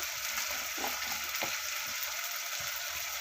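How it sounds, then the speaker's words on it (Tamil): Turmeric and chili powder are sautéed in a pan for a cauliflower kurma, giving a soft, steady hiss with a few light stirring knocks underneath. "மிளகாத்தூள் கொஞ்சம் நல்லா வதக்கிடலாம்"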